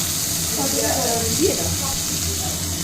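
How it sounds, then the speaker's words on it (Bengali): Mustard seeds crackle and sizzle in hot oil as they are tempered, a steady close frying hiss with a few soft pops. "একটু বেশি করে সর্ষে ফোড়ন দিয়ে দিলাম"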